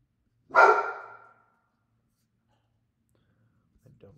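A single short, sharp bark from a dog heard while viewing comparable homes on West Morrow, moderately close, followed by silence and a faint trace of sound at the very end.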